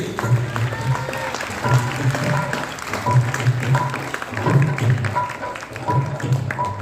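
A crowd applauds, with clapping that swells in steady bursts, while a few voices murmur faintly beneath it.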